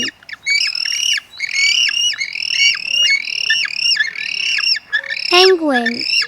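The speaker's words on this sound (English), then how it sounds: "penguin," Penguin calling in a series of loud, brassy braying squawks that repeat rhythmically and up close, ending in a lower, drawn-out honk.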